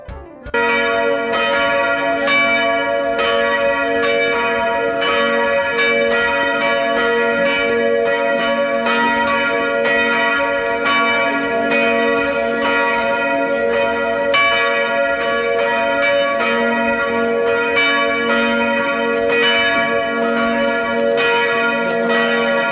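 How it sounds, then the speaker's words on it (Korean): Church bells near the Church of the Nativity ring over the traditional market in Bethlehem, a loud, continuous peal of repeated overlapping strikes with long ringing tones, sustained throughout without any speech. "걸어다니면서 여러 과일도 보고 종소리도 들으며 재밌는 시간을 보냈습니다."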